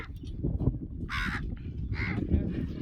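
Two harsh caws ring out over steady low rumbling background noise, fairly close and clear.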